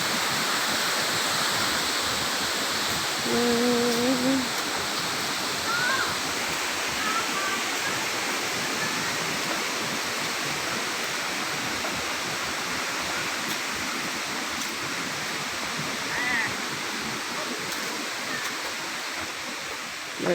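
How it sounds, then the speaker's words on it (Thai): Steady roar of the Samrong Kiat waterfall, a dense unbroken rush of falling water close by, with brief faint voices and bird calls barely rising above it. "ทางลงน้ำตกข้างล่าง"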